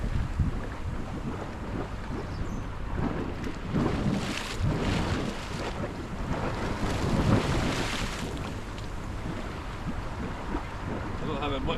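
Hot water gushing from a warm outfall pipe into the sea at Southwick at night, a dense, steady roar of rushing, churning water mixed with wind buffeting the microphone, continuous and loud throughout.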